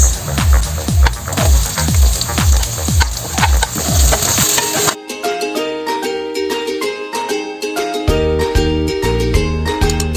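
Onion going into a pan of sautéing ginger for ginataang puso ng saging, with loud steady frying sizzle and repeated spatula stirring scrapes, shifting partway through as the ingredients are tossed.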